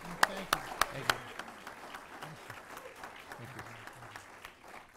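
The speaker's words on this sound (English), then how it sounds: "I'd like to invite the audience here to give a round of applause for the two candidates for State Senate." An audience at a local State Senate candidates' forum breaks into applause, opening with a few loud distinct claps before settling into a steady smattering of clapping, with a voice speaking over it.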